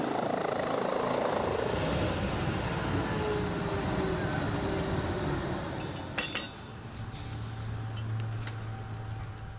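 Helicopter used for high-voltage power line construction, its rotor thudding loudly and continuously before easing off and growing fainter, with a few brief metallic clinks near the end.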